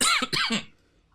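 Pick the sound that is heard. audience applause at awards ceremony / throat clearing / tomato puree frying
throat clearing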